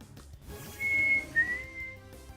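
A person tries to whistle, producing a couple of thin, wavering whistled tones amid breathy air and mouth noise, close and moderately loud.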